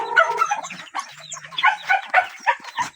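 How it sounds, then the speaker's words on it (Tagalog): Several chickens clucking and calling close by, overlapping in busy bursts throughout, with a low engine-like hum underneath. "daming manok"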